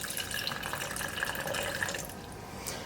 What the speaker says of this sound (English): we'll finish the rain gauge by adding water to the base